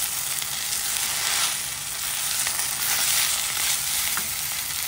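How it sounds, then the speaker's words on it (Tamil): Amaranth greens wilt in a hot pan for a moong dal kootu, giving a continuous broadband sizzle that swells and eases slightly, with no one speaking. "கொஞ்சம் கீரை எல்லா கீரையும் வதங்கட்டும்."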